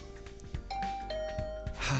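A two-tone doorbell chime rings in the video game The Hundred Line: Last Defense Academy, its clear tones sounding alone over a soft game background, with a brighter burst at the end.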